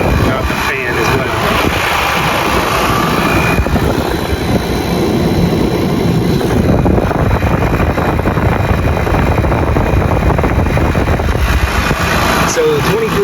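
An air conditioner compressor fitted with a soft starter runs with a continuous, loud, rumbling drone, steady throughout, with a rough, windy texture.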